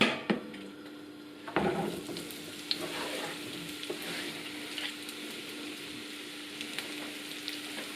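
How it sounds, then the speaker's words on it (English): Vegetable pieces frying in a big glug of rapeseed oil in a largish frying pan over medium heat, a steady soft sizzle throughout with occasional clinks of stirring, close and fairly quiet. "I've got a largish frying pan on medium heat and a big glug of rapeseed oil"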